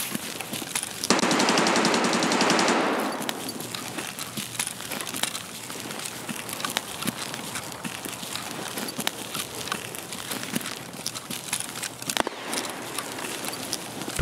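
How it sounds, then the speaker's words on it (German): Burst of automatic gunfire in the online shooter Escape From Tarkov, a dense rapid rattle for about two seconds, followed by quieter scattered distant shots, clicks and ambient game noise. "Doch, hinten wird geschossen."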